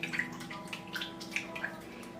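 Soaked shiitake mushrooms and squid are rinsed by hand in water, giving soft splashes and sloshing drips at an irregular rhythm, close and fairly quiet.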